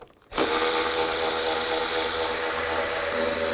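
An 8mm socket and power driver run steadily on a bolt holding the thermostat housing cover of a 2000-06 GMC Yukon, a loud continuous whir that starts abruptly after a brief pause and holds for several seconds with no talk.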